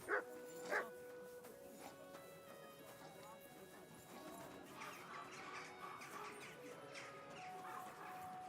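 A dog barks twice in quick succession near the start within the medieval game Kingdom Come Deliverance 2, over horse hooves clip-clopping and a steady music bed, with talk in the background.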